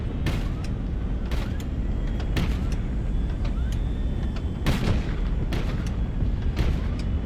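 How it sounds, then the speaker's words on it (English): A tank's ammunition cooks off in a video game: a string of loud, sharp booms and cracks at irregular intervals over dense rumbling battle noise, close and harsh throughout. "Ammo explosion."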